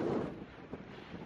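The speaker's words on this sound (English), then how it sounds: "See, it's a bit windy." Wind gusts buffet the microphone on an exposed hilltop along a coastal hiking trail, a low rumbling roar that is strongest at the start and then eases.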